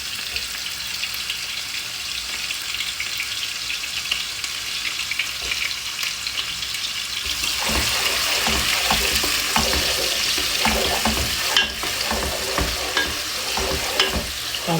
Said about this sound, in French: je mets l'huile et je vais commencer à faire frire d'abord mes oignons